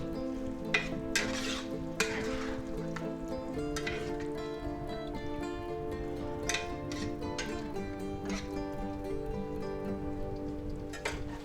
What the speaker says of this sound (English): Okay, let's mix that up a good. Give it a good mix.